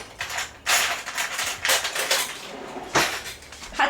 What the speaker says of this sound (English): Had to get a little teaspoon. The tiny teaspoon to fit in the tiny cup.